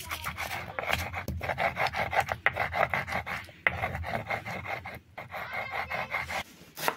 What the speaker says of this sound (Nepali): र अब म पिस्न जाँदैछु सुकेको खुर्सानी